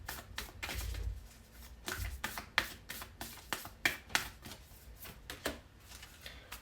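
Moonology oracle cards being shuffled and drawn by hand, a quiet close sequence of crisp riffles and card slaps in an uneven rhythm, with soft handling rustles between them.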